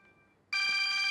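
Mobile phone suddenly starts ringing with a bright electronic tone halfway through, loud and close after a near-silent room, the ring sustained to the end.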